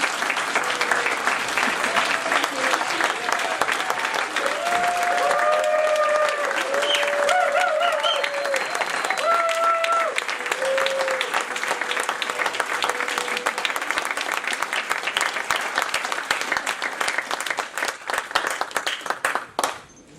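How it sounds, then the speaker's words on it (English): A graduation ceremony audience applauds the class of 2012 graduates in a long, dense, steady round of clapping, with a few faint voices and cheers mixed in, tapering off at the very end. "I just want to give another round of applause to all of our graduates."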